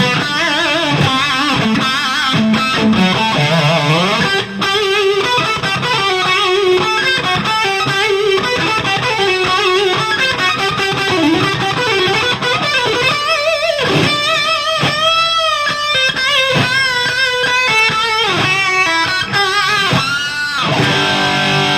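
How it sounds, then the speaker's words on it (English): Distorted electric guitar: a continuous riff with sustained, crunchy chords and bending lead notes, loud and steady throughout. "Here it is with some distortion."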